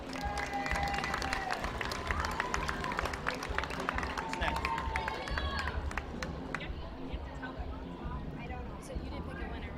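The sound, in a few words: audience applause for livestock show exhibitors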